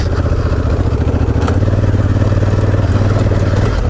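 Honda Africa Twin motorcycle climbing a dirt bike trail with the rear wheel spinning; the engine runs loud and close under sustained, throbbing revs for the whole stretch.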